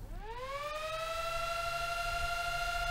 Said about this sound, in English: the first thing you might hear is the fan spinning up